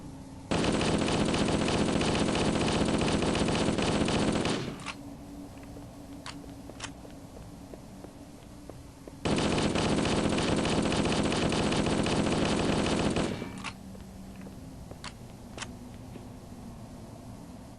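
Fully automatic assault rifle fire in Halo: Combat Evolved, two long sustained bursts of about four seconds each, loud and continuous, with a few faint clicks and shots in the quieter gaps between them.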